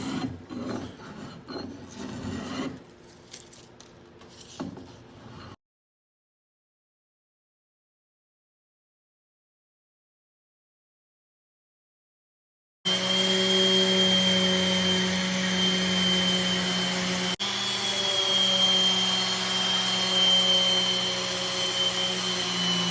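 A power sander works the wooden stem of a small boat under construction, running steadily and close for about ten seconds after a stretch of rasping tool work and a long silent gap.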